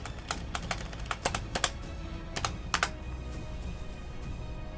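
Spacebar and keys on a computer keyboard pressed in an irregular run of crisp, close clicks, with a few doubled strokes, fading to quiet room tone.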